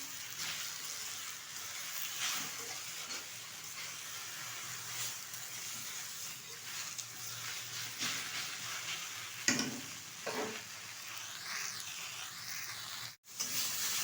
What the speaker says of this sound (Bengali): পাট শাকটা কিন্তু ভালোভাবে ভাজা হয়ে গেছে